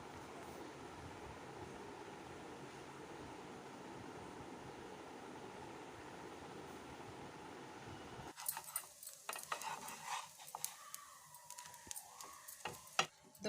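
Rava dosa fries in oil on a pan with a steady, soft sizzle for several seconds, followed by clinks and scraping of a utensil against the pan.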